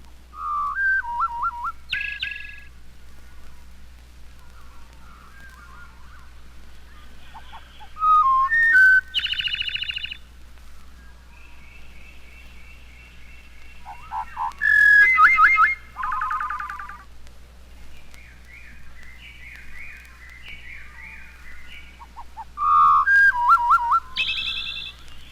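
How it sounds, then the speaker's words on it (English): Thrush song slowed to half speed and an octave lower: a series of separate whistled phrases, fluting notes and rapid warbled trills, each burst followed by a pause, clear and alone over a faint low hum. "To show the marvelous improvisations of the thrush, the endless variety of his song, let's hear it at half speed,"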